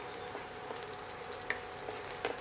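Asafoetida sizzling in hot oil while tempering dal for Rajasthani dal bati churma, a steady soft frying hiss with scattered faint crackles and pops, fairly quiet and close, with no talking.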